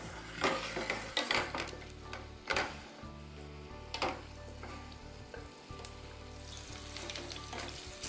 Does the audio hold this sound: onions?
yes